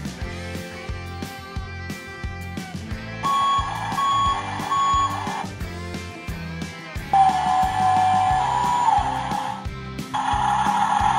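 A cartoon bulldozer driven by a purple minion, with naughty Norman in the scoop, lets out repeated high reversing beeps over bouncy background music and the rumble of its engine.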